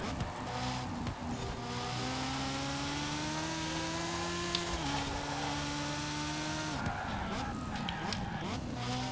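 A Lego Ferrari in Forza Horizon 4 races along with a steady, high-revving engine drone that rises and then dips sharply as it brakes hard, with tire noise over it and a constant, close, loud mix.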